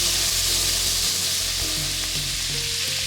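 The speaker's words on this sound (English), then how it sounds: "When the burdocks are browned, add pork belly." Pork belly hitting a pan of browned burdock root for miso soup, a bright, constant frying hiss with small pops and stirring knocks, close and uninterrupted, no voices.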